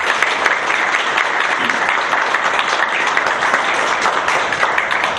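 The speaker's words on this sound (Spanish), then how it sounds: "les pido un aplauso muy afectuoso," Dense, loud audience applause at a conference welcoming a speaker to a school of economics, steady throughout with no talk over it.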